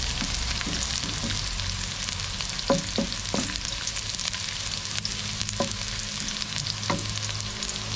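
Chicken and pork sizzling in a pan for adobo, a steady frying hiss with occasional clinks and scrapes of stirring, close and alone.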